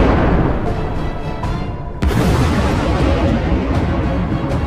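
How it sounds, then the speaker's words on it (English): A massive explosion as an FPV drone loaded with explosives strikes a house, a sudden sharp blast midway over a loud rumbling wash of noise that continues with debris-like roar afterward. "It flew straight in, and then a massive explosion."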